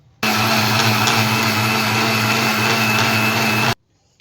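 Electric mixer grinder running steadily at high speed while grinding tomatoes for mutton sukka masala, a loud continuous whirring drone that starts abruptly and cuts off sharply after about three and a half seconds, with nothing else heard.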